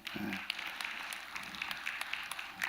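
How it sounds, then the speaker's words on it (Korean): Worshippers at an early-morning dawn prayer service break into a short, moderately faint round of applause, with a few sharper claps standing out from the steady patter. "자리에서 한번 일어나면 박수 한 번을 해주시고"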